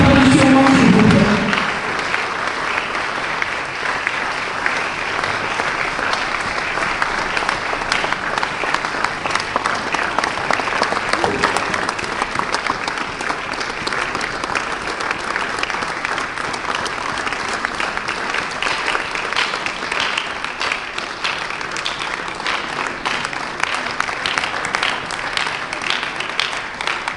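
Sustained, dense applause fills a civil wedding ceremony hall, steady and loud for nearly half a minute, with a brief burst of voices at the very start.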